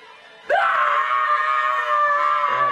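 A boy lets out a loud, sustained scream in a film scene, bursting in suddenly after a quiet moment and holding at full intensity, close and alone.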